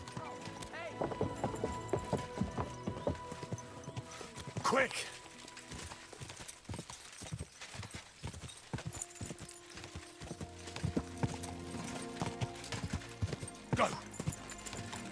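Horse hooves clip-clop along in Kingdom Come: Deliverance II, a steady medieval gait running under a voice with a shouted command, plus a brief whinny-like burst partway through.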